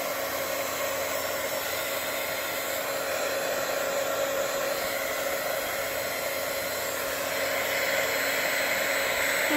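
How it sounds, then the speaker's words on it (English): A craft heat tool blows hot air onto card stock with a constant, loud whooshing hum that stays even and unbroken the whole time, with no other sounds. "Now we're going to pull out the heat tool again. Heat it up for a second."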